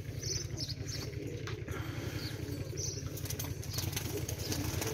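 Pigeons' rapid wing flaps flutter continuously in a fast rhythm close by, over a low steady background rumble.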